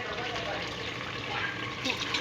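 Water is poured into a pot of frying tinday (round gourd) curry with meat, a steady broad gushing and sizzling wash that stays loud and even for its whole length, with no break or gap.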